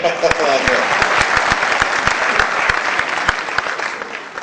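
Dense, loud applause from an award ceremony audience fills the whole clip, with many sharp individual claps standing out from the steady roar of the crowd.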